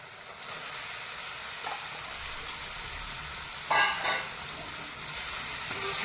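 Pasta is tossed into hot spiced oil in a pan, giving a steady frying sizzle with brief scraping stirs, the clearest burst about midway through.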